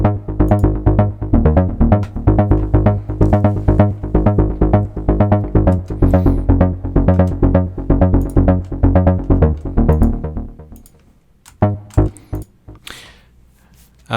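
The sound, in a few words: bass with two echo plugins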